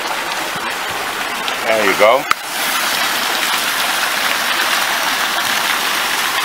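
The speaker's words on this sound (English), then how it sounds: "now it's time to water the plant" Water pours steadily into a potted plant in a homemade umbrella-base planter, a continuous close splashing gush. Someone briefly speaks over it.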